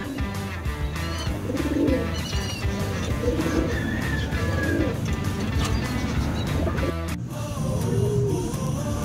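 Racing pigeons in a home loft after a long-distance race to San Fernando, La Union, with soft cooing and bird calls over a dense, steady background of noise, and a brief thump near the end.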